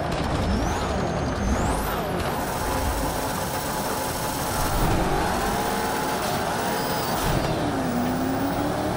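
Game car engine from Project Cars 3 racing, a steady continuous drone with shifting pitch and revs, loud and constant throughout with no talk over it.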